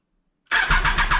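A Triumph Daytona 675 motorcycle engine cranks and fires after a moment of silence, catching abruptly into a loud, close, pulsing start-up.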